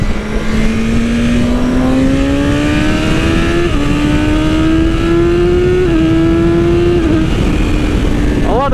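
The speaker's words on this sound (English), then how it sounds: "The next one is auto blipping downshifts. Clutchless downshifts, guys." A 2020 BMW S1000RR sport bike drones loudly at steady speed, its engine note climbing and then stepping down through several quick, clutchless auto-blipped downshifts.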